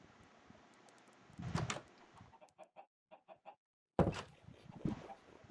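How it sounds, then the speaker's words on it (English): Minecraft chickens on a game farm cluck in short bursts, a few quick separate clucks with brief silences between and a louder flurry at the start and end, close and clear with no talking. "oh, I hear the chickens now."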